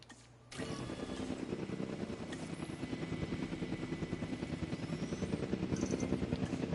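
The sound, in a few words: helicopter airlift in a video game, Jurassic World Evolution 2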